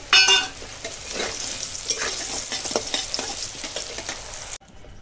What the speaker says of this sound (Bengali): দেখো এখানে আছে বড়ি এখন বড়িটা ভেজে নেবো